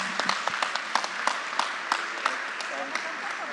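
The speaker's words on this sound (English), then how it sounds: "A bigger round of applause, ladies and gentlemen" An audience applauds at a management convention in a Kochi hotel, a moderate patter of separate claps over a steady crowd wash, fading slightly toward the end.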